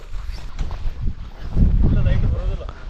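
Monsoon wind gusts over the Kabini river backwaters, buffeting the microphone with a steady low rumble that grows heavier and louder in the second half.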